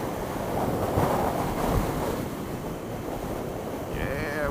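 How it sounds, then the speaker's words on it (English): Strong wind roars across the microphone while riding a Ninja 400 motorcycle, a loud steady buffeting rush that swells and eases throughout. "See that wind coming through right there?"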